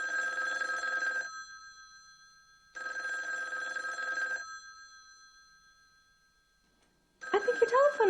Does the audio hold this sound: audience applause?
no